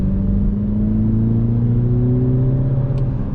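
The turbocharged engine of a MINI Cooper S pulls steadily in mid mode. The droning engine tone rises slowly in pitch over a constant road rumble inside the cabin, loud and continuous.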